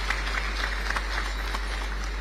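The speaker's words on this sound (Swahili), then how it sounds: "Naomba nikutambue kwa makofi yetu tafadhali." An audience at the Zanzibar investment conference in Pemba applauds to acknowledge a regional party chairman, a steady, moderately distant wash of many clapping hands over a low hum.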